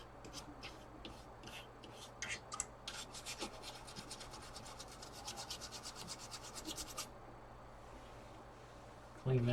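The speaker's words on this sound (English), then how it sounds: "Clean that socket out." Rapid scrubbing strokes clean out a chip socket on a Commodore 64 breadbin, a run of short raspy rubbing bursts close up over a steady low hum, stopping near the end with a brief knock.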